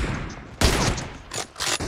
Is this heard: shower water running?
no